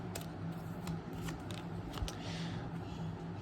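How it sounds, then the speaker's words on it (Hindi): Tarot cards drawn from a deck during a love reading, giving soft papery slides and small ticks over a steady low room hum, close and quiet, with no talking. "पहले एक बार कार्ड्स निकाल देते हैं"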